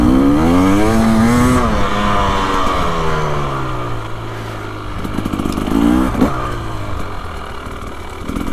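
A 2025 KTM 300XCW two-stroke dirt bike engine revs while riding, rising and falling in pitch with throttle blips, a loud close drone dropping off then surging again, with no talk.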